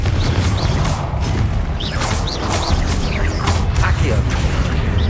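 A Confringo explosive spell from the game Hogwarts Legacy bursts in a dense, loud blast over continuous roaring combat noise, with repeated crackling impacts through the whole stretch.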